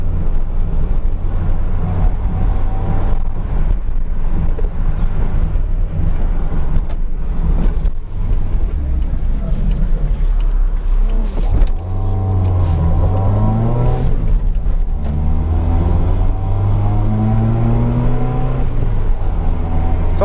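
A car engine revs in low, rising and falling sweeps, with a loud surge and slide in pitch toward the end, steady and close with no talking.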